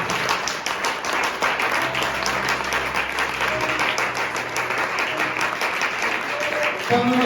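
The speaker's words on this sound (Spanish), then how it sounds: "denle palmas a Dios, porque usted tiene a Dios" Congregation applauding during a Spanish-language church service, brisk and steady hand clapping from many people that holds throughout, with faint voices underneath.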